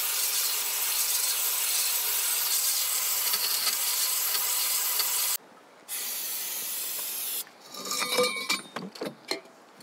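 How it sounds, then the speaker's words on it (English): A cylinder hone works inside an engine cylinder on a seized Cat 3306 from a Cat track loader, making a harsh, steady abrasive hiss for several seconds. A short pause follows, then a second shorter pass, and it ends with some clattering knocks. "I feel like we could hone that a little more"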